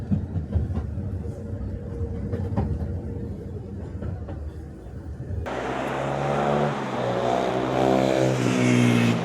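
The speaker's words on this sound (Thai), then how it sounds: "เดี๋ยวรอรถไฟมาแป๊บหนึ่ง" A train rumbles in, the low roar swelling louder and closer, joined by a rising metallic whine as it pulls into a station in Kamakura, Japan.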